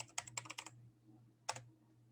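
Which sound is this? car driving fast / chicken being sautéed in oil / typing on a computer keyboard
typing on a computer keyboard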